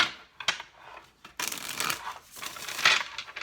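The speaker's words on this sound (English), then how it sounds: "This will be our last shuffle." Tarot cards being shuffled by hand in bursts of crisp riffling and flicking, close and fairly loud, with brief pauses between passes.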